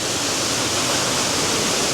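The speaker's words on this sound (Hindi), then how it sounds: "इसके पीछे आपका एक वाटरफॉल है" A waterfall behind a viewpoint at the Kushma bungy jump site in Nepal, a steady, dense roar of rushing water filling the whole clip with no break and no talk.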